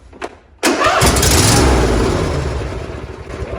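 A John Deere D140 lawn tractor engine catches with a short cranking burst, then roars loudly into a steady, rough idle close by, with no talking.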